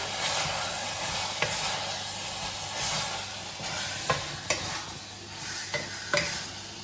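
Black pepper and garam masala are stirred into a beef stew in a pan, a continuous sizzle under scraping strokes of a spoon, with several sharp clinks of the utensil against the pot.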